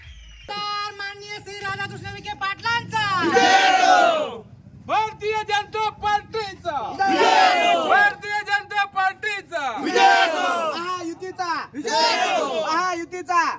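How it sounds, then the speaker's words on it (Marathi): A crowd of villagers in a village election victory procession in Sangamner, Maharashtra, shouts and cheers together in loud, rising bursts, with a steady rhythmic drumming or clatter underneath throughout. "या निवडीनंतर ग्रामस्थांनी जल्लोष करत भंडाऱ्याची उधळण केली आणि विजयी मिरवणूक काढली"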